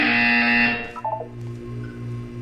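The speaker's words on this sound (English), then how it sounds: "You will hear a buzzer." A harsh electronic buzzer in the video game Portal 2 blares for under a second, then cuts off, leaving a low steady hum with a few soft tones.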